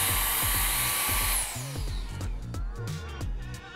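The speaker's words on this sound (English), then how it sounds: "I can actually dry my hair like this with two hands with it still blowing into my hair" Coolo portable hair dryer blowing close by, a steady airy whir whose pitch drops as the motor winds down partway, over soft handling noises.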